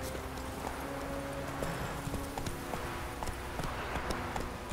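Rhythmic horse hooves clip-clopping at a quick pace in The Witcher 3, steady and fairly close over ambient game sound with no talk.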